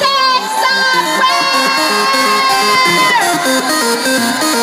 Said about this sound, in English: give a very, very big round of applause to our best in show